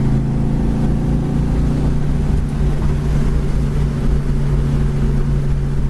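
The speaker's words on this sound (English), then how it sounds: "Goes really nice down the road. 65, 70 mile an hour." A 1971 Plymouth Duster cruises down the road at around 65 to 70 mph, its engine droning steadily with road and wind rumble, loud and close from inside the car.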